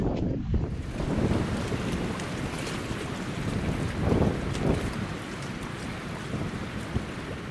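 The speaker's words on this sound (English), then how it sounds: "with this wind gushing across the lake" Wind gusts steadily across an open lake shore, a broad continuous rush buffeting the microphone with stronger surges around the middle, alone without voices.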